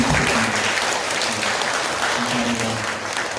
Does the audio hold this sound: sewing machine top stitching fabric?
no